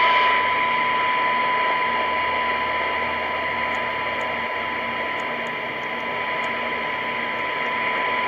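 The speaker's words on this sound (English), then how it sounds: "You're going to hear the static start coming in." Receiver static hiss from a Galaxy 44HP CB radio under bench testing, a steady broadband noise with a constant tone running through it, loud and unbroken, with faint ticks and no talk.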